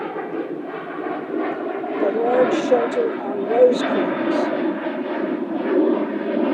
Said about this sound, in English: I'm going to do an airplane pause.